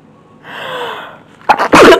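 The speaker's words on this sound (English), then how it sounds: "I'm glad we got one of your sneezes on camera, because you're a violent sneezer." A man gives a violent sneeze: a rising breathy inhale, then two loud, explosive bursts close to the microphone near the end.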